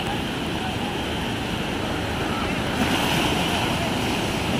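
Sea waves surge and hiss in a steady broadband wash with wind noise on the microphone, continuous and fairly faint.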